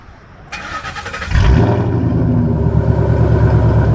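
A Ford Mustang GT engine cranks and fires up, settling into a loud, deep, rumbling idle.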